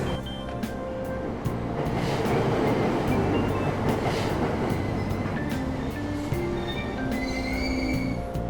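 A game train pulls away from a Tokyo subway station in Persona 5 Royal, its rumble building and swelling with squealing wheels and rhythmic clatter, loud and close, no voices.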